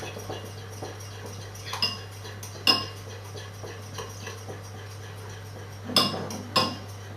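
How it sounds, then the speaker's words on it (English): Muffin batter for jam doughnut muffins being mixed by hand in a bowl, with a few sharp spoon-on-bowl clinks at scattered intervals over a low steady hum, close and fairly quiet. "Just mix them in."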